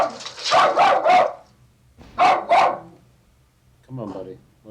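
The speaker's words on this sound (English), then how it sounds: "Come on, buddy. What are we barking at?" A dog barks in a quick burst of three or four close, loud woofs, then two more after a short pause, ending with a softer, whiny yip.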